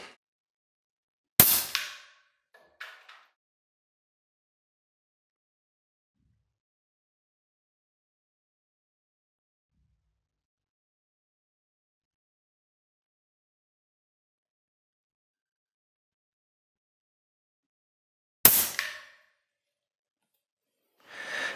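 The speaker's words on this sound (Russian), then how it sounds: "Погнали стрелять." An air rifle fires H&N Baracuda Hunter pellets into chipboard: two sharp, loud cracks about seventeen seconds apart, the first followed by a faint knock, with silence between.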